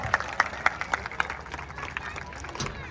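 A group claps together at an outdoor fitness session in Punjab, a run of sharp, evenly spaced claps that fade into looser scattered claps under faint background voices.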